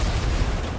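An explosion in Fortnite, a loud, sustained low rumbling blast that fills the short moment with dense noise.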